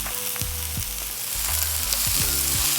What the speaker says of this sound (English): Giving our mushrooms a stir.